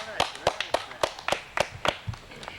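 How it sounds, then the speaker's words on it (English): A small group claps for a new winner at a Little League camping trip gathering, about ten distinct sharp claps in a loose, uneven rhythm, close by and fairly quiet, with no one talking. "Nice round of applause, Fran."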